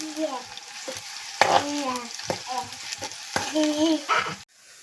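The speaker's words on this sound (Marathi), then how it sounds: "हा कांदे ना मस्त पैकी असा तेलात मस्त परतून घ्यायचं" Onions sautéing in oil for a spicy bombil fish curry produce a soft frying hiss with repeated stirring scrapes, while a voice talks over the cooking; the sound cuts off abruptly near the end.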